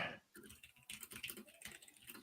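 Close, rapid typing on a computer keyboard during a live call-in show: irregular bursts of sharp clicks and clacks that run without pause and sound right beside the microphone.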